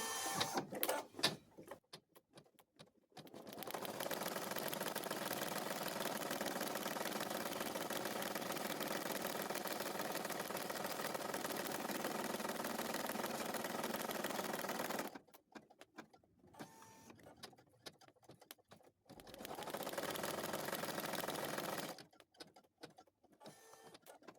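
A domestic embroidery machine stitches a cloth doll design, its steady mechanical whirring and needle chatter running continuously for about twelve seconds, then breaking off and resuming briefly, with quiet handling sounds between runs.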